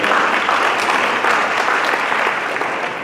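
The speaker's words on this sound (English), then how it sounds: "I know that Mosby family will keep clapping." Loud, dense audience clapping at an Atlanta award ceremony for an international business award, holding steady for about three seconds and easing slightly at the end, with no speech over it.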